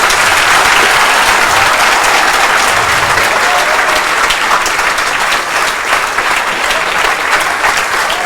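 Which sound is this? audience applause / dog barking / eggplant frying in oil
audience applause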